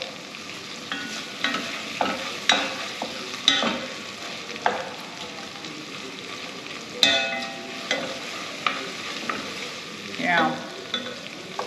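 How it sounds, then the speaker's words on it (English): Tomato paste cooks on the bottom of a pot while a spoon stirs it, giving repeated close scraping and knocking strokes over a low sizzle; a brief word is spoken. "First, we'll just stir that around. Let that tomato paste sort of cook on the bottom."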